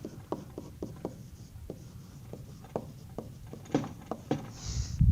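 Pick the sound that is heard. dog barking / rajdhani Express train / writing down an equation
writing down an equation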